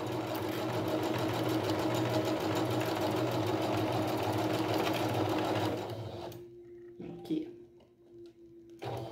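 A sewing machine runs a steady, fast stitch through fabric and tulle for a cake cover. It rattles loudly and continuously for about six seconds, then stops, leaving a few faint handling clicks.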